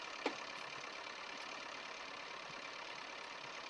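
Farm tractor running while spreading fertilizer on a field, its engine a faint, steady low drone heard from a distance, with one brief tick near the start.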